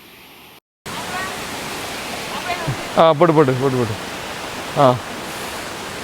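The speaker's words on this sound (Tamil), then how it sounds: "ஒரு ஃபால்ஸை கிடக்குன்னா இப்படி தாங்க கிடக்கணும்." Waterfall in the Pothigai hills, a steady broad roar of rushing, falling water filling the scene throughout, with someone speaking over it partway through.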